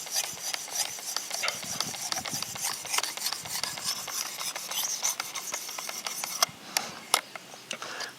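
Knife edge drawn repeatedly across a ceramic stone on a Work Sharp Precision Adjust sharpener, a steady close raspy scraping in quick strokes with a few sharper scrapes near the end, no talking.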